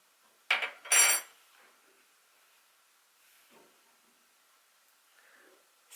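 A metal spoon presses down on broken pressed eyeshadow or highlighter powder under a cover, giving two short, close clinking and scraping bursts early on, then quiet with faint handling.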